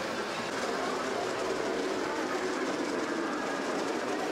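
Steady rumble and clatter of a small model train running along its track in a museum folk-art model railroad display, continuous and fairly loud throughout, with no voices.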